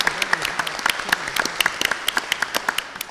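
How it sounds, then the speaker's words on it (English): Applause from an audience at a town centre summit, close individual claps standing out clearly over a lively, steady patter of the crowd. "I think that deserves a round of applause"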